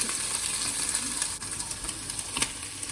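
Mushrooms stir-fry in a pan with a steady, bright sizzle and occasional stirring scrapes, close and continuous with no talk.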